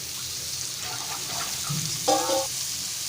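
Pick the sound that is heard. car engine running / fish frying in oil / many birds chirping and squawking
fish frying in oil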